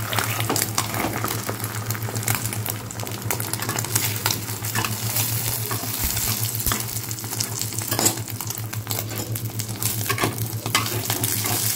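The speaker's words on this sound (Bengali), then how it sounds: "এখন ডিম ভাজা করব" Eggs fry in a pan in a home kitchen, a loud, continuous sizzle with scraping stirring and a steady low hum underneath, no speech.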